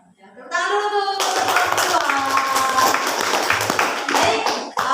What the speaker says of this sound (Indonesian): Tepuk tangan dulu tuh.